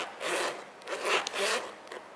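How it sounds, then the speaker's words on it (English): A one-way zipper on a Projectcarbon leather cigar case being pulled: a close, soft, raspy run of zipper teeth lasting about two seconds, smooth with slight fluctuations, no talking. "The zipper, it only has one, it's a one-way zipper, and that's of course enough."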